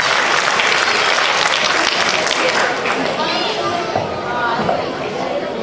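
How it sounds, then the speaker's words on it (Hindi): Enthusiastic audience applause for a Class 4 girl student at a school annual function, steady dense clapping throughout, fairly loud with some crowd chatter mixed in. "एक जोरदार ताली तो बनता है आप सभी से नंदनी के लिए।"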